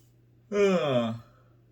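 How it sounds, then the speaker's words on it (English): A person gives one drawn-out voiced yawn, close and alone, rising and then fading over about a second. "As soon as I start doing a reading, I start yawning."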